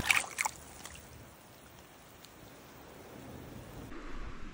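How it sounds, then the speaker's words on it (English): Light rain falling by a creek, a soft, even hiss of drops with a couple of brief sharper patters at the start, fairly faint and steady. "We gotta take a little break, escape the rain."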